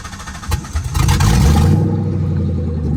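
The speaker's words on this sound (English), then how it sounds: "Let me actually start the car" A car engine with no exhaust or O2 sensors fitted cranks, catches and starts, surging into a loud, raw low rumble that settles into a steady idle, close by and with no talk.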